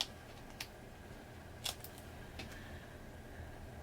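Scissors trim a sticker or paper for a planner page in a few quiet, sharp snips spaced apart against a soft room hiss.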